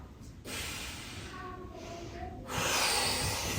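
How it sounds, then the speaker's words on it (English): Heavy, audible breaths during a home full-body strength workout, sharp snorting inhales and hissing exhales close to the mic, with a louder forceful exhale at the end. "You can hear my connecting, my breathing."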